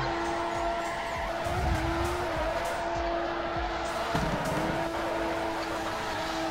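Tires squeal in a steady, sustained skid as a drift car slides along a wall in the racing game Torque Drift, with engine drone underneath and a brief bump partway through.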